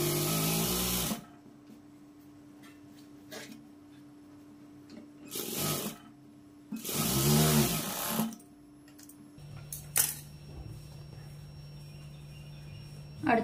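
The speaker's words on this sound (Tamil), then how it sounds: "கிளாத் திருப்பி விட்டு மறுபடியும் மேல வந்து ஒரு 1/2 இன்ச் அளவுக்கு தையல் போட்டுக்கங்க" A sewing machine runs a half-inch seam along turned-over blouse fabric in short separate bursts, clattering briefly with quiet gaps and a faint hum between runs.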